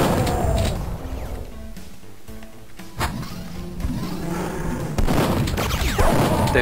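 Rapid pistol gunshots in Duke Nukem 3D sound over looping game music and effects, with loud bursts around the middle and near the end.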